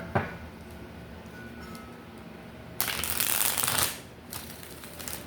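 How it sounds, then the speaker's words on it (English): Tarot cards shuffled at a table in one close, bright burst of riffling that lasts about a second, followed by a shorter second flutter, with a quiet room otherwise and no talk. "So let's pull a tarot card here."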